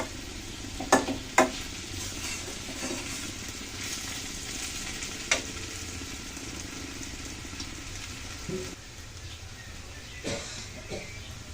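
Cauliflower and potato bhaji frying in a pan with egg to be added: a faint, steady sizzle with a few sharp clicks of a utensil near the start, quiet and without talk.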